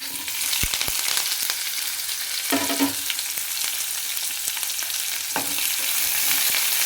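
Mustard seeds, cumin, onion and green chillies fry in hot oil as a tempering, giving a steady close sizzle with a few sharp pops and occasional stirring scrapes, no talk.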